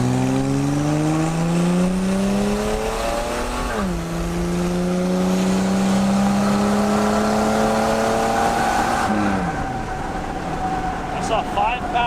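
A Buick Grand National barn find, a turbocharged car, accelerates hard, its engine note climbing steadily through the gears with a sharp drop at each shift, loud and close from inside the cabin.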